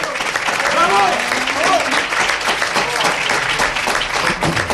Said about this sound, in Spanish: fuerte el aplauso para los dos, de verdad. Jorge Asín, Marisol Aznar.